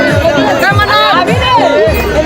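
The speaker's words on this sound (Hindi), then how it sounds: "सारे काफी ज्यादा भीड़ भाड़ है।" Crowd babble at a crowded birthday party after the cake cutting, with balloons being popped nearby; many overlapping voices chatter loudly and continuously at close range.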